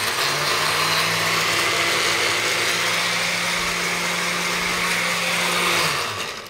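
A blender whirs steadily and loudly at high speed for several seconds while blending bananas and frozen blueberries, then winds down at the end.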